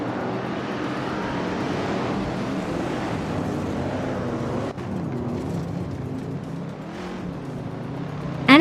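Racing cars in a video game race drone steadily throughout, a continuous engine roar with shifting pitch that holds at an even level, ending with a brief louder burst.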